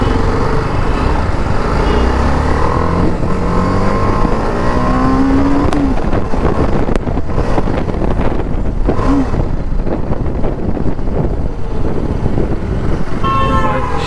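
TVS Apache RR310 and KTM Duke 390 motorcycles in a drag race, their engines revving and roaring loudly and continuously, with rising and falling pitch sweeps and steady wind buffeting throughout.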